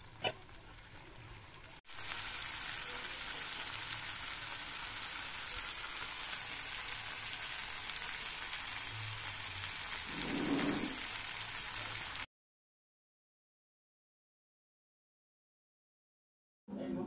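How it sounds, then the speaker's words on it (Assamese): A pan of potato curry with milk and chilies bubbles with a soft, steady, hissing simmer up close. A short thump comes partway through, then the sound cuts to silence. "এয়া তৰকাৰীখিনি উতলি আছে"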